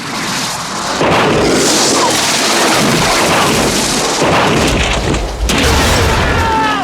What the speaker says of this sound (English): It really is just a piston which is fired out using the high pressure nitrogen, and it rocketed over.